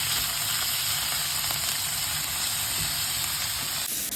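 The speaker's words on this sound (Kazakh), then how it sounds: "қызып тұрған табамызға сұйық май құйып, етіміз бен чесногымызды жақсылап қуырамыз" Meat and chopped garlic fry in hot oil in a pan, giving a steady close sizzle with a constant hiss that cuts off abruptly near the end.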